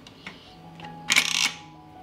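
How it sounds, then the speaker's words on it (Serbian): A 6-litre pressure cooker holding jars and a litre of cold water has its lid shut: a few faint clicks, then a close, bright metallic clatter lasting about half a second. "Zatvorit ću ekspres lonac"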